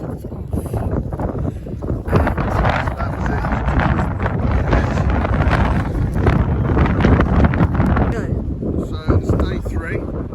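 Strong gusts buffet the microphone during a windy outdoor flight test of a DJI Mini 2 drone, a loud, rough roar that surges and rumbles continuously across the whole clip.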